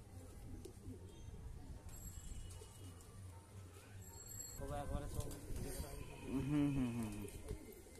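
Fly machine breed pigeon cooing in a loft, a low soft warble rising near the end over steady background noise and faint chatter, with people talking nearby.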